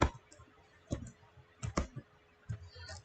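Quiet clicking of a computer keyboard while Java code is typed, a few scattered keystrokes and short bursts of keys at an uneven pace.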